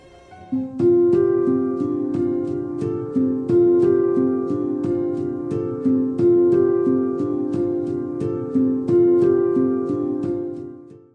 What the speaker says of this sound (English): An ostinato is a short musical pattern that happens over and over again.